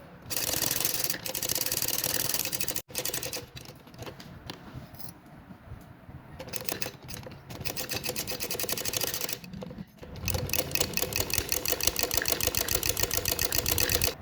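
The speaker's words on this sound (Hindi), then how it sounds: "ऐसे इसको सिलाई लगाते रहते हम कंप्लीट कर लेंगे" A sewing machine stitches a piped collar for a kameez in loud, rapid, steady runs of stitching, broken by brief pauses and quieter handling in the middle.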